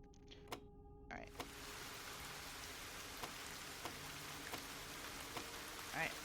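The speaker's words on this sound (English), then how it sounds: "the rhythm of the rain beating against the windows" Steady rain beats against car windows in a video game, a dense hiss punctuated by scattered louder drops and ticks, heard close and fairly quiet.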